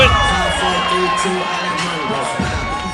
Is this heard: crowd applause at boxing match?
yes